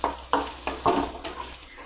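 Chili powder being stirred into chicken gravy in a pan, a soft sizzle with several distinct scraping strokes of a spoon, fairly close and unhurried, without speech.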